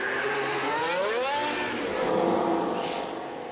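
A Formula 1 car pulls out of the pits at the Spain round in the F1 Manager 2013 video game, its engine whine rising and sweeping in pitch as it accelerates away, alone and steady.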